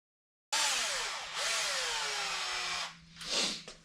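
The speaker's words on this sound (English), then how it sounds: "not going to use the entire clip of me going back through and drilling this stuff" Power drill boring into metal while fitting an SSR crank hub on an M4, a loud steady whine with pitch shifts as the bit loads and eases, briefly dropping out near the end before a final burst.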